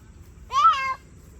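A child imitates a cat's meow with one short, clear, rising-and-falling voiced call over faint background hum.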